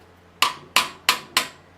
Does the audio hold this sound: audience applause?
no